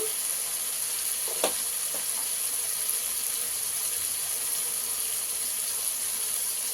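Bitter gourd pieces frying in a pan, a steady close hiss and sizzle with a few light clicks of stirring, no voices.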